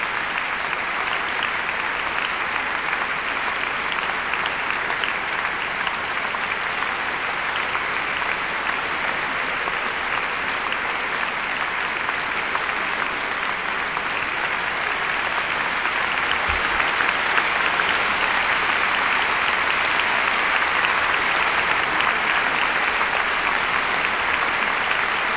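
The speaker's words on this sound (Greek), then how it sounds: "που χειροκροτάει με ενθουσιασμό τους καλλιτέχνες" An audience applauds enthusiastically in the Friends of Music hall of the Athens Concert Hall, sustained dense clapping filling the space at steady volume with no voices.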